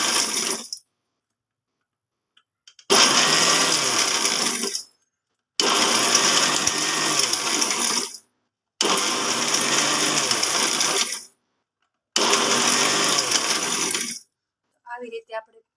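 A mixer grinder pulses while grinding chaat masala spices: four loud, roughly two-second whirring bursts separated by short silent gaps, in a steady on-off rhythm with no talking.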